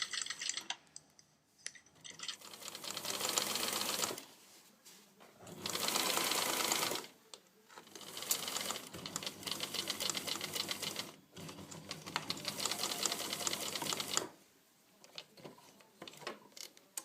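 A sewing machine stitches a skirt seam in several runs of rapid, steady needle chatter, close and clear, separated by short pauses.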